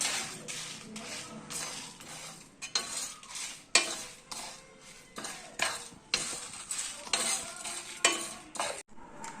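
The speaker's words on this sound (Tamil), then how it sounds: "அதனால் கவனமாக இதை வறுத்தெடுக்கணும்." Repeated scraping and stirring strokes in a pan as dry spices roast for Chettinad chicken gravy, with a faint crackle between the rhythmic scrapes.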